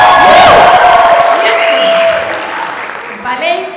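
Audience at a church congress breaks into applause and cheering, a loud burst with whoops that fades out, mixed with speech and crowd voices.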